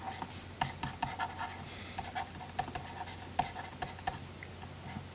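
Writing on a board during a geometry lesson: a quick, uneven run of small ticks, taps and scratchy strokes, close and moderately quiet over faint room noise.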